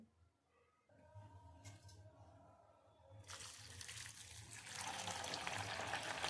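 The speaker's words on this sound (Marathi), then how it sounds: "आता इथे मी छानपैकी दोन पाण्याने स्वच्छ धुवून घेणार आहे" Cowpea pods are washed in water in a kitchen, with quiet splashing that swells into a louder, continuous rush of water in the second half.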